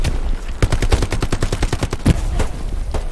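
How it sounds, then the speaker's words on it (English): Rapid automatic gunfire in the World War II shooter Hell Let Loose, a loud close burst of evenly spaced shots running nearly three seconds with a few heavier single reports mixed in. "Still shooting it."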